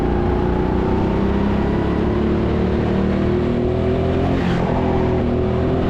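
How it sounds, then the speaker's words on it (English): Go-kart engines at TeamSport Sheffield indoor karting track, a loud continuous buzzing drone of karts racing close by, with pitch wavering as they accelerate through corners. "the karts behind are starting to catch up once again"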